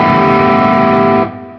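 A single strummed A seventh nine chord on electric guitar, heavily distorted and run through effects, rings loud and sustained for over a second before being cut short, leaving a faint fading tail.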